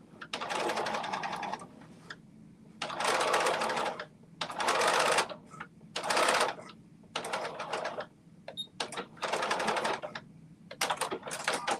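A sewing machine stitches two rows on a belt wallet and runs a back stitch, coming in steady mechanical bursts of a second or two separated by short pauses, close and clear.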